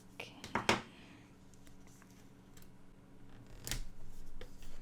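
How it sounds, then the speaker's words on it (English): Scissors cutting a sticker for a reading journal, a quick cluster of sharp close snips near the start followed by soft rustling and handling noises, with a faint voice at a low level. "I will cut this sticker just so it would not bunch up in the middle."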